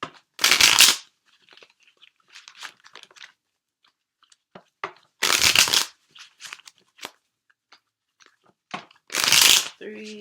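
Tarot cards shuffled in three loud, crisp bursts of riffling, each about a second long, with quieter tapping and handling sounds between them.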